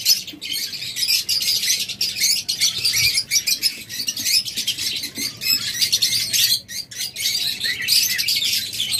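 Pet birds in a breeding cage chirp and tweet nonstop, a dense, bright chorus of overlapping calls with occasional squawks, close and lively throughout.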